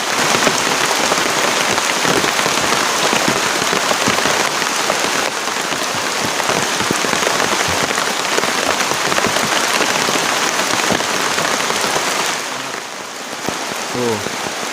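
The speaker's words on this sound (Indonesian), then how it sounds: "hujan deras banget tuh." Heavy rain drums steadily on a tent during a stormy camping night, a dense and loud downpour that continues without a break and eases slightly near the end.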